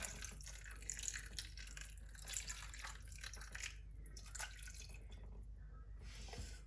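Water poured from a glass into a pot along one side while making biryani, a close, continuous splashing and trickling stream with drips that tapers off near the end, with no talk.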